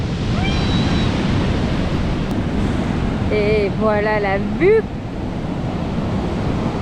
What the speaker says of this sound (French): ça fait des vagues de dingue